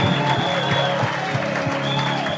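A church congregation applauds in acclamation, a dense, continuous wash of clapping with rhythmic beats underneath, sustained and fairly loud throughout.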